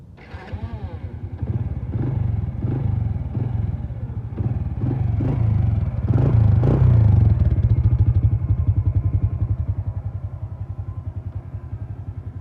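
A Honda Wave 100s motorcycle engine turning over and catching, then settling into a close, steady putter of rapid regular firing pulses that swells briefly before easing back to idle.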